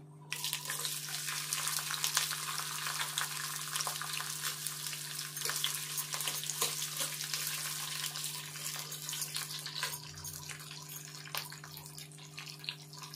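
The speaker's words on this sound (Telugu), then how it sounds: "ఉల్లిగడ్డ ముక్కలు వేసుకుందాము." Chopped onion pieces fry in an oil tempering with cumin, mustard seeds and dry red chillies. A constant close sizzle runs throughout over a steady low hum, with a few faint crackles.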